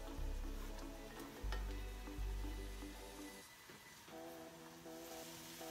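Scallions and garlic sizzle steadily in a hot pan for shrimp pad thai, a constant frying hiss with a loud low rumble early on and some clinking, no talking.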